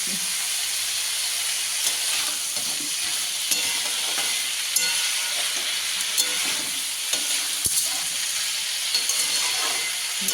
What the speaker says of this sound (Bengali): এবার শিমটাকে ভাজা ভাজা করে